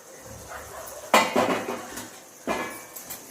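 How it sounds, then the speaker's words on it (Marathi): A metal lid lifted off a pan of egg masala gives two sharp clattering clanks, the first louder with a short metallic ring, then a softer second clink close by. "झाकण काढून घेऊ."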